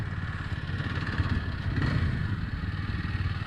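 A Kawasaki W230 single-cylinder motorcycle of 233 cc, carrying two riders, revs hard with a steady, close-up throbbing engine note and some mechanical clatter, with no talking over it.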